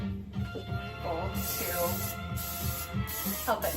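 Cooking spray hisses onto a bowl in a home kitchen while making Mickey beignets, a steady close spray running under people chatting.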